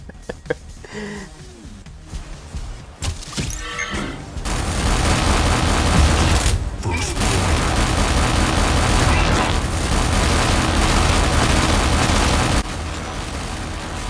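Arc 10 weapons in the video game Arc Torrent fire as a sustained, loud burst of rapid gunfire and booming impacts that lasts about eight seconds, after some quieter game sounds.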